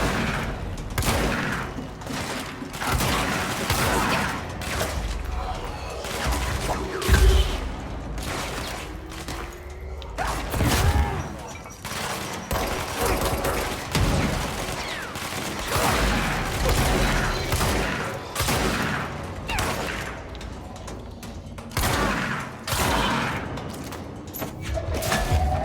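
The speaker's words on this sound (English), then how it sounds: "But let's see what the shotgun can do" Shotgun fire in the video game Control, booming blasts that repeat irregularly over a steady, loud din of combat and mechanical noise, close and heavy throughout.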